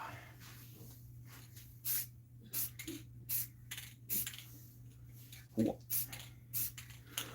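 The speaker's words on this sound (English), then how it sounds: "you guys are going to hear me spray coat my head sculpt." Short bursts of aerosol spray hiss repeatedly in uneven pulses, close by, with quiet pauses between them, as a model head sculpt is spray coated.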